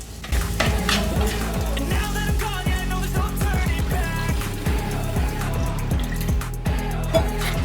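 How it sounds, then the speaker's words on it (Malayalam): Soaked kudampuli (Malabar tamarind) water pours into a Kerala-style sardine (mathi) chilli curry, setting off a loud, steady sizzle with stirring clatter throughout. "വെള്ളത്തിലിട്ട് വെച്ച കുടമ്പുളി ഒഴിച്ചു കൊടുക്കാം"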